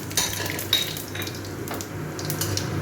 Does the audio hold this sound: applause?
no